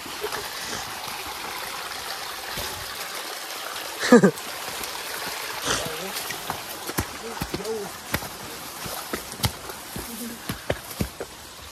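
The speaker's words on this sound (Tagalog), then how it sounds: "narinig na natin yung ano, yung agos ng tubig" Steady rushing of stream water runs throughout, with scattered clicks and footsteps over it and a brief louder splash partway through.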